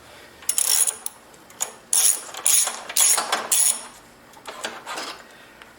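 Quick ratchet wrench clicks tighten the battery hold-down clamp on a 2000 Acura 3.2 TL, arriving as about five short close-up bursts of crisp metallic ratcheting separated by brief pauses, with no talking.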